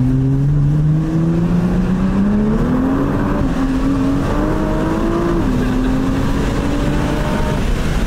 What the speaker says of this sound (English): Stock 2020 GTR. Still sounds fire and still pulls like no other.